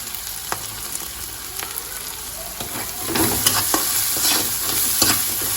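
Onion frying in a pan with turmeric powder and salt for a methi bhaji, a steady close sizzle with repeated stirring scrapes and clicks that grows a little louder partway through.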